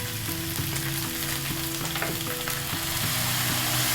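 Chicken stir-frying with holy basil and fish sauce in a Thai wok gives a steady, loud sizzle, with spatula scrapes and stirring clinks recurring throughout.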